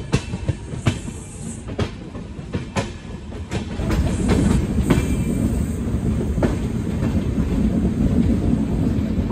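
Tamil Nadu Express carriages rolling over rails while rounding a curve, with steady rumble and repeated clickety-clack wheel beats, loud and close, the roar thickening midway.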